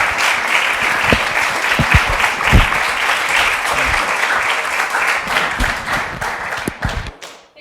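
A crowd applauds Bob Inglis and Brian Murray at the close of an environmental communication discussion, sustained dense clapping with scattered sharper close claps, steady and full before tapering off at the end.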